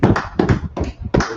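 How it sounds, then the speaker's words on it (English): Hand clapping in a steady rhythm, four loud, sharp bursts evenly spaced about a third of a second apart, close and fairly loud with no talk over them. "Clap it up."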